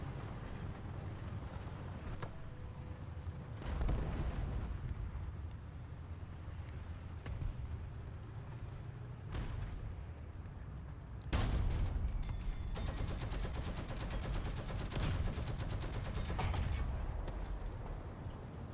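Tank cannon fire in the War Thunder video game, with two sharp booming shots and a blast standing out over a constant low engine rumble, loud and close with no talking.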